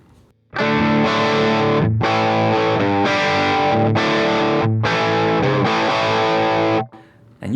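Electric guitar played through a Valeton GP200LT multi-effects unit from a Schecter BlackJack with the gain pushed into a distorted rock tone, a series of loud sustained chords struck in a chugging rhythm before ringing out and cutting off.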